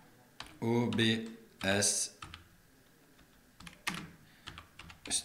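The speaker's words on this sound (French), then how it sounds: "Donc, je tape" Fingers type on a computer keyboard to enter a search, producing clusters of quick clicky keystrokes, close and clear, between stretches of someone speaking French.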